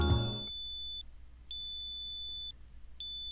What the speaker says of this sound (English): Mitsuru immediately reacted to the unexpected beeping.